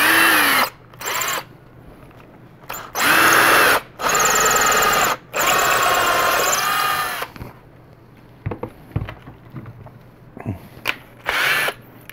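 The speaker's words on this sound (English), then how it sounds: "I'm going to continue drilling this hole." A power drill bores a hole through a metal leg of a prototype build in several loud, close bursts of whining, each a second or two long with short pauses between, then light handling clicks and a final short burst.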